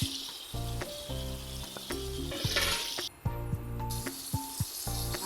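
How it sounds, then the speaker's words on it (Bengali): Chopped tomatoes hiss and sizzle in hot oil in a pan for a Manipuri-style katla fish curry, a steady close frying crackle broken by stirring scrapes, with a musical tone playing underneath. "নাড়াচাড়া করে এখন টমেটো দিয়ে দেব"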